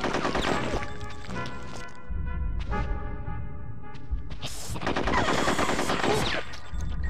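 Gunfire in Conker's Bad Fur Day, the video game, as rapid machine-gun bursts crackle and boom loudly in dense clusters with a brief lull in between, set against a low rumbling game soundtrack.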